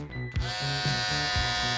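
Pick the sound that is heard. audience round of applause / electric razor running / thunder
electric razor running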